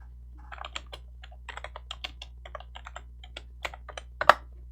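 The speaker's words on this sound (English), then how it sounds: "You're typing." Fingers tapping on a computer keyboard in a quiet room, a close string of light irregular clicks in quick bursts, ending with one sharper louder key strike, over a low steady hum.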